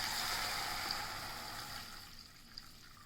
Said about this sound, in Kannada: ಜೊತೆಗೆ ನೀರು ಹಾಕ್ಕೊಳ್ತಾ ಇದ್ದೇನೆ.